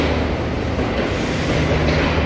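A Green Line passenger train running in Pakistan: a loud, continuous rumble and rush of the moving train, heard close from on board, steady throughout with no talk.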